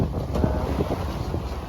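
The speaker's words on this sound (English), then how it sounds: "there's some fairly big old waves, rollers really, rolling along" Big rolling sea swells wash around a sailing yacht after rain, a continuous close rush of water and hull noise with heavy wind buffeting the microphone throughout.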